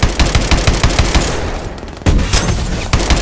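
Intense automatic gunfire and explosions in Call of Duty: Advanced Warfare during a base escape, a dense, loud, continuous rattle of rapid shots filling the whole stretch.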